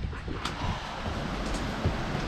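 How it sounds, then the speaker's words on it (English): Gusty wind buffets the microphone outdoors on a windy day, a steady broadband rush with no talk. "And it's a windy day again."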